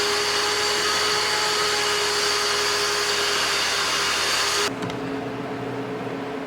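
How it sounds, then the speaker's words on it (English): A shop vac runs steadily and loudly, sucking leaves and debris out of the bottom front area of an Argo, with a constant whine that cuts to a lower, quieter drone near the end. "So I'm going to take a little bit of time and using a shop vac get that out."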